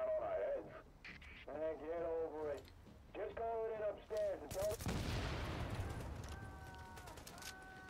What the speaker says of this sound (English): I like how they're just standing there as the explosion in front of them.